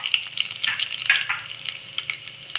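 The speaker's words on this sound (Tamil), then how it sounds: "இதில் வந்து ஒரு 4 முந்திரி, கேஷ்யூ ஒரு 4 முந்திரி போட்டுக்கலாம்." Cashews sizzle and crackle in hot oil alongside chana dal in a pan, a close, steady frying hiss broken by light stirring scrapes.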